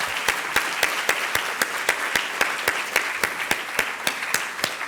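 An audience at an economics lecture claps steadily for the speaker, a sparse even rhythm of individual claps, fairly close, with no talking.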